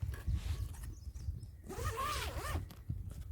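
A zipper on a bag pocket is pulled in a couple of quick rasping strokes, close and fairly quiet, with soft handling rustles around it and no speech.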